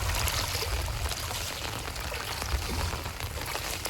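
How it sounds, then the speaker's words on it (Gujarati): Heavy, steady downpour in a Gujarat village, a dense continuous hiss of rain pouring onto surfaces with water running, close and unbroken with no voices. "હજી અત્યારે બી વરસાદ ચાલુ છે અને આખા દિવસનો વરસાદ ચાલુ રહ્યો છે"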